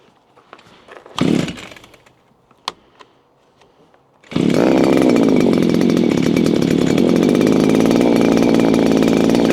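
After a few quiet clicks and a brief pull, the small gas engine of a VEVOR 4-in-1 compact string trimmer roars to life and runs steadily at high speed, loud and close.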